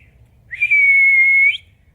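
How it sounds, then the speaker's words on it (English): A single steady whistled note, held for about a second and sliding slightly at the ends, used to call a horse at feeding time; it is loud and clear against quiet background. "I always started whistling."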